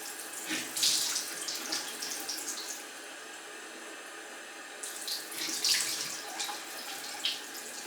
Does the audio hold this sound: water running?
yes